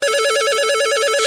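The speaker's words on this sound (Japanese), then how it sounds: "電話をする。" A phone rings in the Oni call app, a loud warbling electronic trill that repeats steadily and fills the short clip, with no one speaking over it.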